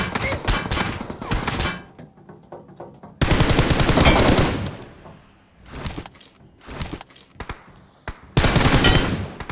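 Gunfire in the mobile battle royale game BGMI: loud, close bursts of rapid automatic fire separated by short gaps and a few single shots, with no talking.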